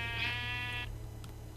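A single wavering sheep bleat from Minecraft, clear and fairly close, fading out after under a second into quiet game ambience.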